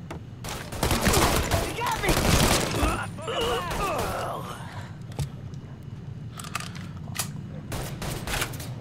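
Heavy gunfire from the Mafia 3 video game, with dense bursts of automatic fire that are loudest early on, then sparser shots, under faint background game sounds.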